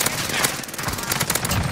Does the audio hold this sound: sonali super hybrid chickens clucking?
no